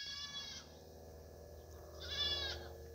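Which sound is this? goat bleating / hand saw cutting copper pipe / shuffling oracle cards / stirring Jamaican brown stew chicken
goat bleating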